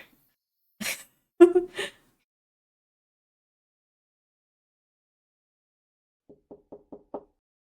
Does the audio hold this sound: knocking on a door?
yes